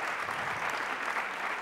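An audience at a conference in Las Palmas applauds in a brief, dense burst of continuous clapping, with no talk over it.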